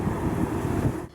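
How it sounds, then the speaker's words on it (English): Cold wind blows outdoors in a steady low rumble of buffeting gusts against the microphone, close and continuous, cutting off at the end. "It's windy."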